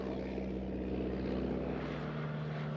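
Steady drone of a propeller-driven plane used for airdropping supplies to deer cullers in the New Zealand backcountry, a continuous low engine hum with strong tonal bands holding level throughout, with no talk.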